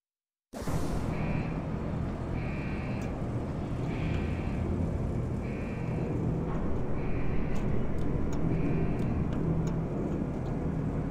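Aircraft in Deus Ex: Human Revolution lifting off a landing pad, a steady loud engine roar with a rhythmic pulsing whine repeating about every second and a half, after a sudden start.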